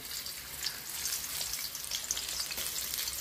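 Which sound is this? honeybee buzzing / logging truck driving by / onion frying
onion frying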